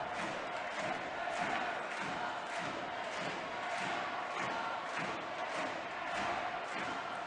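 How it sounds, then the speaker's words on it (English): An ice hockey arena crowd roars steadily, with rhythmic clapping and a mass chant pulsing through continuous dense cheering, heard from within the stands at moderate distance. "pretty much the whole arena on their feet now, clapping and chanting Barmy Army."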